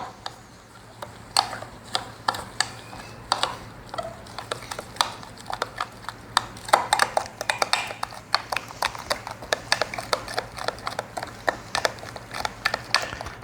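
Flour and water being stirred into a paste for grandma's bread pudding: quick, light clicking taps of a utensil against the bowl in a steady, busy rhythm, close and fairly quiet.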